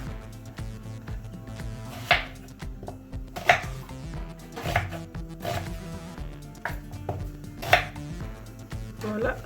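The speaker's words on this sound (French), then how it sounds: "Je vais démarrer ma recette en venant découper mes 4 oignons." Four onions are chopped with a knife on a board, giving crisp, close, irregular chops in quick bursts over a low background hum, with no speech.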